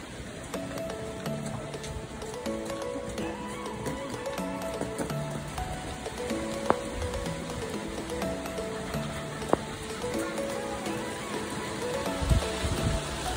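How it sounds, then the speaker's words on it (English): Heavy rain pours steadily at a horse show-jumping venue, a dense constant hiss under faint background stable sounds with a couple of sharp knocks, no speech. "Oh gosh, couldn't rain any heavier."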